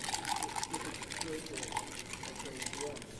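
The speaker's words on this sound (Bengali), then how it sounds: "ওকে, প্রথমে আমি ঢেলে নিচ্ছি।" V60 pour-over coffee being poured, a soft trickling liquid stream with faint gurgles, quiet and close, with a voice speaking faintly over it.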